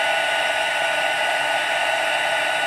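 A heat embossing gun blows a steady, loud, airy whir like a hair dryer, melting embossing powder on vellum, unbroken throughout with no talking.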